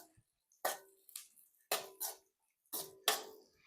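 Seeds crackling and popping as they fry in a pan while making dry fruit laddu, heard as a few sharp, spaced bursts of spitting sizzle close by with near silence between them.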